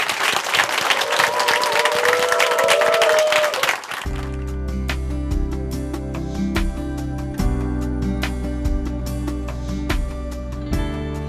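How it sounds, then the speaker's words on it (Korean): Church audience applauds to welcome Brother Kim Hoon of Chuncheon Hanmaeum Church to the stage for a testimony; dense, close clapping fills the first four seconds, then cuts into music that carries on alone. "김훈 형제님 더욱더 큰 박수로 모시겠습니다"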